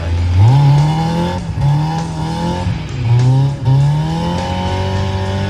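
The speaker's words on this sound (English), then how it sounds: "We're just taking the summer nice car out for a little cruise today." A Nissan 240SX summer car is driven hard uphill, its engine revving high and loud with repeated rising pulls and gear changes, tires squealing underneath, close and continuous with no talk.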